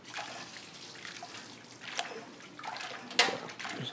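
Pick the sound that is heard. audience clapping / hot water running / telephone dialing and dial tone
hot water running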